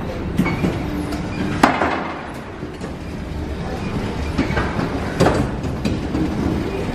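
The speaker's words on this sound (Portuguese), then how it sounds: "vamos pegar o metrô" A Paris metro train rumbles along with clattering wheels and occasional sharp screeches, loud and close, with no voices.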